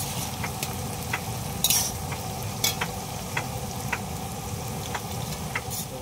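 Onions sizzle and fry in a pan with a steady hiss, while a spoon repeatedly scrapes and taps against the pan at an even pace.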